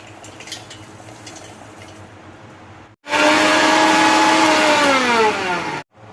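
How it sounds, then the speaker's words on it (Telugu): A mixer grinder whirs loudly and steadily for nearly three seconds as it grinds roasted peanuts, sesame seeds and cumin. Its pitch shifts as it spins, and it stops abruptly after a quieter lead-in. "ముందుగా వేయించి పెట్టుకున్న పల్లీలు నువ్వులు జీలకర్ర మిక్సీలో వేసుకొని మిక్స్ పట్టుకోవాలి"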